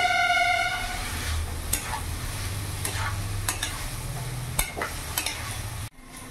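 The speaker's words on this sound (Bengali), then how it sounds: "ভালো করে এবার নেড়ে নেবো।" Ash gourd (jali kumro) curry stirred in a pan, a low continuous sizzle with a few sharp scraping knocks of the spatula, ending abruptly in near silence.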